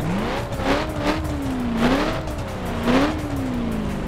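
A Cadillac Eldorado street-spec engine in the video game The Crew drones steadily, its pitch rising and falling in repeated revving surges, loud and close with no talking.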